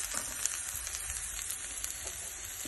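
Ivy gourd (dondakaya) masala frying slowly in a pan, a steady close sizzle with soft crackles running throughout, with no one speaking.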